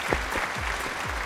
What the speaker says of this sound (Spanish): les pido un fuerte aplauso para la señora Elena Estrada